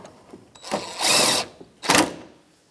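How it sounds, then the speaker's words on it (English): A socket wrench snugs down coolant reservoir bolts on a 2013-2018 Toyota RAV4, a few short bursts of ratcheting and whirring, close and crisp, with quiet gaps between them. "Now I'm going to take my 10mm socket and I'm just going to snug them down."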